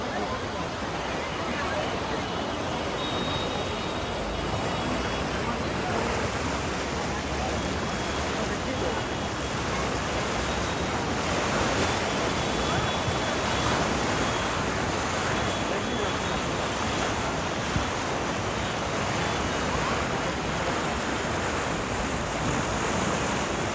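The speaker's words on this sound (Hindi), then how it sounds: "ये देखिए कितना तेज़ प्रेशर के साथ गंगा माँ" The Ganges in flood at Rishikesh rushes past with a dense, continuous roar of fast water, loud and close and steady throughout, with wind noise and faint crowd murmur beneath.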